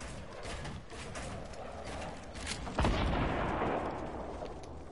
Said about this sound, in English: That's us definitely getting shot at.